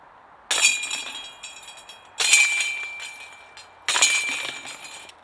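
Three sharp metallic chain clatters as a putter disc hits a disc golf basket, each a bright jangling crash that rings and fades, spaced about two seconds apart with quiet between.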